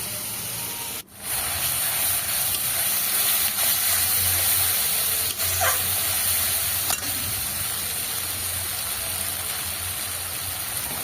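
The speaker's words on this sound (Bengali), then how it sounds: "কুচনো পেঁয়াজটা বেশ ভালো করে লালচে করে একটু ভেজে নেব" Chopped onion and a ground paste of chilli, ginger, garlic and onion fry steadily in a pan, giving a constant soft hiss and sizzle with a brief knock near the start.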